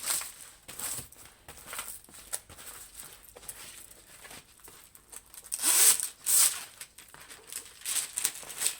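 Paper and plastic film are handled close by during a diamond painting session. Irregular crinkles and rustles come in bursts, with a few sharper crackling peaks partway through.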